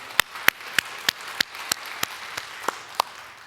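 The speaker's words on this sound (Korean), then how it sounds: "우리 하나님께 감사와 영광의 박수 올려드리겠습니다." A church congregation claps in unison, about eleven sharp, evenly spaced claps at a steady beat, moderately loud over a quiet room with no voices.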